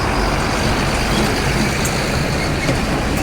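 Loud, continuous roar of heavy trucks rumbling past on the badly potholed BR 259 federal highway, a close engine drone with faint squeals of brakes or air.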